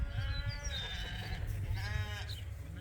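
Several sheep bleat on a working sheep farm in hot weather, with wavering calls rising and falling over a steady low rumble of wind or handling noise, close and fairly loud with no talk.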